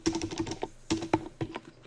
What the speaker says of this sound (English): Bloody German keyboards.